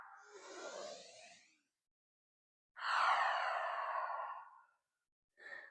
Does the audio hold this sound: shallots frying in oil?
no